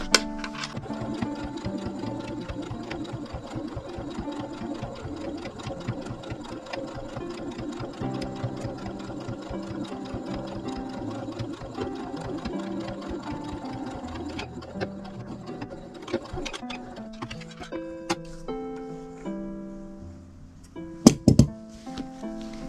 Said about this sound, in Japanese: ここをもう一度端ミシンかけます。